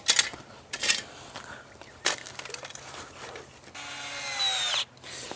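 Pond skimmer pipe being cut loose with a power tool, several short bursts of cutting and scraping interspersed with knocks, then a steady whining run of about a second near the end, close by.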